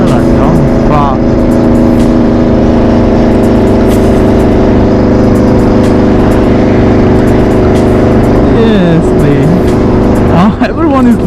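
An Aprilia RSV4 superbike engine in a racing video game holds a steady, loud drone at low cruising revs, a constant engine tone running throughout while someone talks over it.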